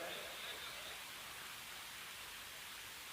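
Steady rain falls as a dense, even hiss, moderately quiet and unbroken from start to finish, with no voices over it.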